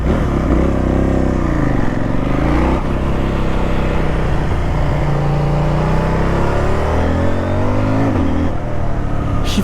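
A 2025 CF Moto 800 NK motorcycle accelerates hard in sport mode, engine note rising and dropping through quick shifter gear changes, loud and close throughout with no talking.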